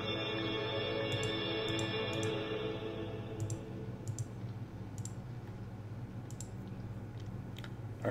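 A computer mouse clicks as someone plays the computer game Homestuck. The clicks are quiet, sharp and come in small bursts over a steady background tone that fades partway through.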